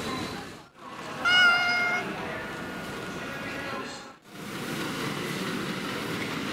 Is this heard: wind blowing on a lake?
no